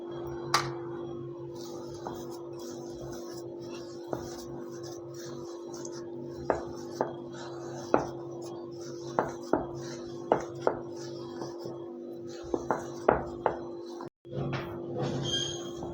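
Roat dough being mixed by hand in a bowl: a soft steady background with scattered sharp clicks and taps of the bowl, spaced irregularly through the clip and growing busier near the end, with no voices.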